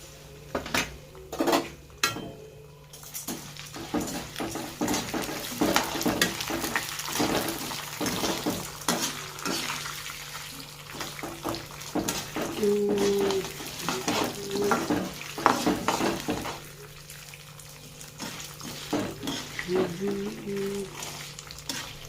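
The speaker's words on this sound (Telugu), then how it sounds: "లాస్ట్లో నువ్వులు వేయించి జస్ట్ వేయించండి," Lentils and sesame seeds being roasted in a pan for a drumstick leaf spice powder, with a steady dry sizzle under repeated clattering scrapes of a spoon against the metal, close by, with occasional talking.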